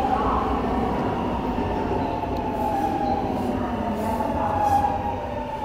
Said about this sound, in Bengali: দেখতে পাচ্ছেন ভাই, এখানকার মেট্রো,